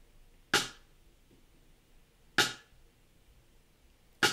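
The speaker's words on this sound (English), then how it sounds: "Now I'm only gonna have it click on every other beat." A metronome ticks sharply on every other beat, three crisp clicks spaced about two seconds apart over a quiet, slightly hissy background.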